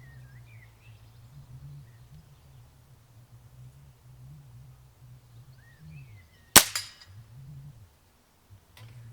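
A single sharp gunshot cracks out downrange, one loud abrupt report followed by a short decay, against a quiet background of low hum and a few faint bird calls.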